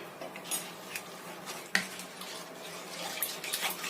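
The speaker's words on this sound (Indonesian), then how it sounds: "Kemudian kita aduk sampai tercampur rata semuanya." A spoon stirs an agar-agar and tapioca flour mixture in a pot, giving soft scraping and a few light clinks, one sharper tap near the middle, all quiet and close.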